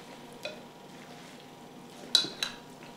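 Queso cheese being stirred into enchilada sauce in a pot, quiet scraping and a soft bubbling simmer, with a few brief clinks of a spoon against the pot, close and faint.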